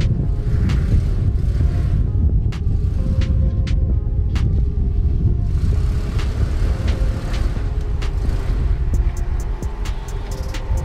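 Full-sized overland truck crawling up a rock on an off-road trail, its engine a steady loud low rumble throughout with occasional clanks and creaks from the rig, no talking.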